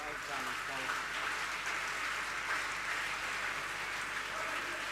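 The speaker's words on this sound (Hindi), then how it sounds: "ताल के साथ ताली बजाओ" A large audience claps together in a steady, continuous wash of applause that holds evenly from start to finish, with no individual voices standing out.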